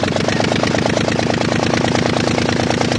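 Anzani engine of a Blériot XI airplane running after starting, with a loud, steady, rapid rhythmic chugging close up and no talk.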